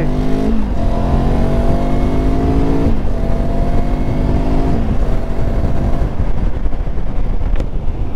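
A Benelli TRK 702 X motorcycle accelerating hard through its gears, engine note climbing steadily with brief dips at each shift, loud and close with continuous wind rush, no talking.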